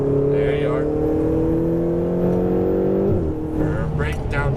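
A Lamborghini Huracan Performante on a race track drones loudly at steady engine revs, then the pitch drops sharply during a downshift before the engine settles back. A voice speaks faintly over it.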